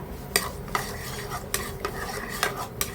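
Whole garam masala spices, including cinnamon, green and black cardamom and cloves, fry in oil with a steady close sizzle, while a spoon scrapes and taps the pan in a loose rhythm.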